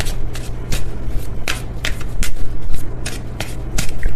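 An oracle card deck is shuffled close up, giving a rapid series of crisp riffling bursts at a fairly even rhythm, loud and without any speech.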